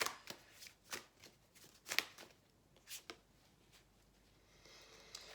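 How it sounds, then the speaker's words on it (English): Soft, quiet tarot card shuffling: a few crisp riffling bursts with pauses between them, close by and otherwise near silence. "Let me shuffle again, please."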